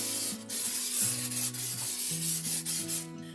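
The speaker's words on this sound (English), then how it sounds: "give it a little spray with some nonstick spray" A steady hissing spray from an aerosol can of nonstick cooking spray, close and continuous with a few brief breaks, over soft background music.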